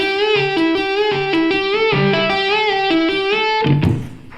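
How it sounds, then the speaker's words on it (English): Electric guitar playing a smooth lick of slow string bends, each note left ringing before gliding up in pitch, with a lightly driven tone; steady, close and loud, fading out at the end with no voices. "I'm letting the note ring out, then bending up, letting it ring out there, then bending out."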